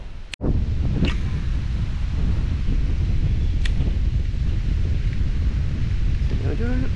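Strong wind at a lake during a fishing trip roars steadily over the microphone, a loud, constant broadband rush with a brief knock near the start and occasional small clicks.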